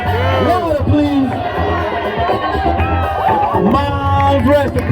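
A large crowd at a breaking dance battle cheers and whoops loudly and continuously, with scattered shouts and high-pitched cries layered over a roaring babble.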